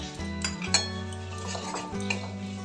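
Ground cumin and coriander being stirred into oil in a pan for a Bengali cabbage curry, with close clinks and scrapes of a metal spoon against the pan over a soft sizzle. Low tonal hum runs underneath, and no one speaks.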